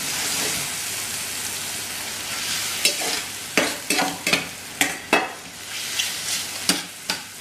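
Mushroom pasta sauce fries steadily in a pan with a continuous close sizzle, while a utensil scrapes and stirs through it in a series of sharp, irregular strokes.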